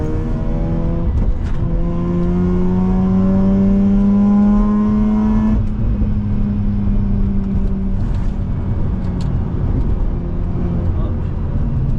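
Rotary-engine race cars in a three-way race on a track, engines droning and revving loudly with rising and falling pitch throughout, one car shifting near the middle, with a voice talking over them.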